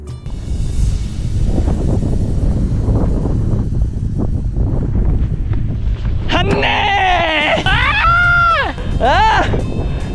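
Wind sweeps across open desert sand in roughly 50°C heat, a steady rough roar buffeting the microphone, while voices call out loudly in the second half.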